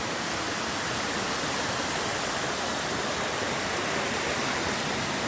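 A waterfall cascade on the Overland Track pours heavy water into a swimming hole at its base, producing a loud, steady broadband roar that holds unbroken throughout.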